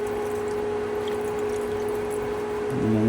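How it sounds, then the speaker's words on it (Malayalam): Water poured into a pot of fish curry on the stove, a quiet steady trickle over a low hum that swells slightly at the end. "നമുക്ക് കുറച്ച് വെള്ളം, ഒരു 1/2 ഗ്ലാസ് വെള്ളം മതി കേട്ടോ."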